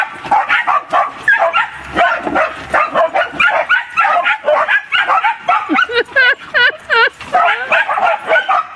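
Three Shetland sheepdogs bark rapidly and repeatedly, sharp high yaps overlapping in a busy, close chorus, with some whining yips mixed in.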